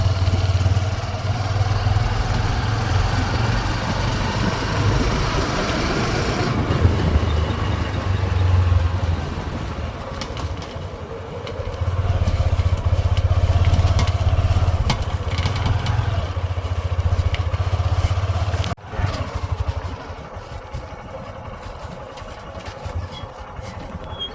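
A motorcycle engine runs steadily with a low rumble near a beach at Una, dropping briefly then picking up again before a sharp knock and a quieter idle near the end.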